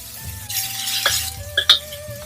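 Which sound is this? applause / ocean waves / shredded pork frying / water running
shredded pork frying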